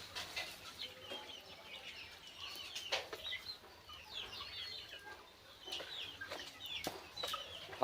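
Desi chickens on a farm give soft, scattered clucks and short chirpy calls at moderate distance, with a few brief flutters and rustles amid quiet ambient noise.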